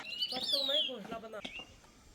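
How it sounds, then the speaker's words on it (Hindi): Small birds chirping in the morning in a Pahadi mountain village, a few bright high chirps and whistled trills close by, fairly faint, with a voice speaking quietly alongside. "सुबह सुबह खूबसूरत खूबसूरत पक्षियों की आवाज़ सुनने को मिलती है"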